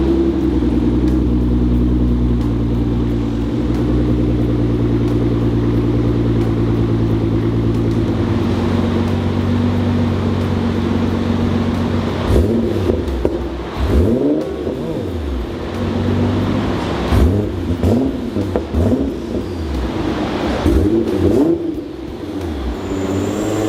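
Nissan R35 GTR engine on a dyno during tuning, a loud steady droning hum that builds into sweeping revs rising and falling repeatedly, close and dominant, with no speech.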